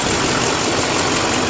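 Chevrolet Duramax LBZ diesel pickup truck engine idling, a steady close, loud broadband rumble with no variation over a brief stretch.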